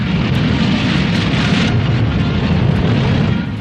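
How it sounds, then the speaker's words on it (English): A captured German V-2 rocket lifting off at White Sands, New Mexico, a loud sustained roaring rumble of rocket exhaust with a wind-like rush, steady throughout on an old newsreel soundtrack. "the huge missile takes off."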